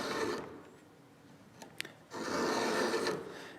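A combined file is drawn by hand across a chainsaw chain's teeth in two long rasping strokes, close and distinct, with a quiet pause and a couple of small metallic clicks between them.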